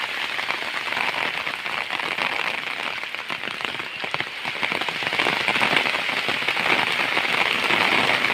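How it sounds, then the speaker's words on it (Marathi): Heavy rain pours steadily at a village school, a dense hiss of drops drumming on surfaces throughout, loud and close with no voices. "आणि पाऊस आले जोरदार"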